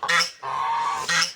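Geese honk three times in a garden, loud close calls in quick succession with a longer middle honk, no other sound around them.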